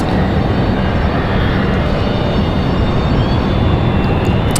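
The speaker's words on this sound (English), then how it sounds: "Southwest was the 737-700. That's headed to Atlanta, Georgia." A Southwest Airlines Boeing 737-700 jet at Raleigh-Durham International Airport makes a loud, continuous roar that holds steady for the whole stretch.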